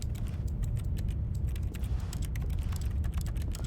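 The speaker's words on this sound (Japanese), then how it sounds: "タイピングの音がする。" Rapid computer keyboard typing from the video game The Stanley Parable, a steady dense patter of key clicks running throughout over a low ambient hum, fairly close and even in level.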